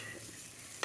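Spices tempering in hot oil for poha, a flat-rice breakfast, give a steady low sizzle under faint stirring for under a second, ending in a brief louder scrape.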